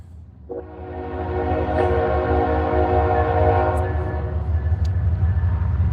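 A train passes on railroad tracks very close by, its loud continuous rumble filling the air while the horn sounds in sustained blasts over the top.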